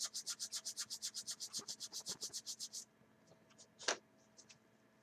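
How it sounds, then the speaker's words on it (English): Sanding the back of a plastic part from a vacuform kit of a Hawker Siddeley Nimrod: about eighteen fast, even rasping strokes close up, then a few scattered scrapes and one louder scratch. "Sand the back of that."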